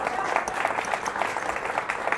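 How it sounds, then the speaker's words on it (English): An audience at a poker tournament final table in a casino claps for the tournament director, a dense, steady burst of applause lasting a couple of seconds, close and fairly loud. "Give him a round of applause."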